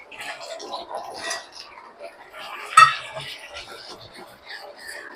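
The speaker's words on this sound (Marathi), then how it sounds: "त्यावेळी ह्याच्यामध्ये आपण आता आपले फ्राय केलेले फ्लॉवरचे तुकडे घालणार आहोत" Fried cauliflower pieces for gobi manchurian being tipped into a thick sauce and stirred, soft scraping and wet mixing sounds with one sharp clink of a utensil against the pan midway.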